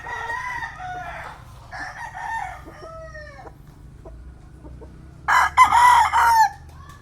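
A young gamecock stag rooster crows several times in a row, each call clear and fairly close, with a louder, harsher crow near the end over a steady low background hum.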